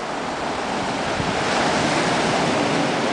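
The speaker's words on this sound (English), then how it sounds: "Waves are breaking in there." Ocean waves break and wash steadily along the rocky shore at Ricketts Point, a continuous loud roar of surf with some wind buffeting the microphone throughout.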